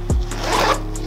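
A zipper on a Tubu camera and laptop bag is pulled in one short, loud, close scraping stroke.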